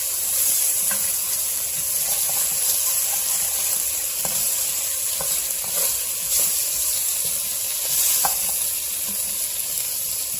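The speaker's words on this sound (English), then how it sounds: "you can start to see he's going to start to get brown as that bacon continues to render" Bacon and onions frying in a pan give off a steady, loud sizzle and hiss, broken by small pops and crackles, close by with no talking.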